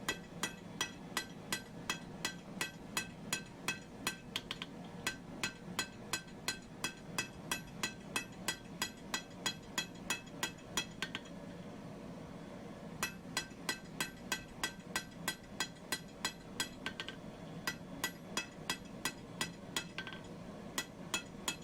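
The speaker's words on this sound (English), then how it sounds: "it's just some planishing blows to get rid of the hammer marks" Steady, rhythmic planishing hammer blows ring out on hot steel while forging a punch, dozens of quick sharp strikes with a brief pause midway, close and alone.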